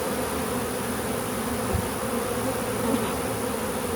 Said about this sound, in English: So I'm just shaking the bees off.